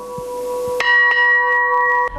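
An old railway station bell from Yelisavetgrad's train station rings loudly with a sharp metallic strike, followed by a long shimmering tone and a few fainter taps, heard alone without talk.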